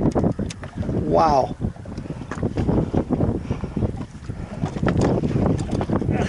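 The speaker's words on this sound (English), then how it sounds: "Wind's picking up." Gusty wind buffets a fishing boat thirty miles offshore, a constant roaring rumble against the microphone, with brief exclamations and voices in the background.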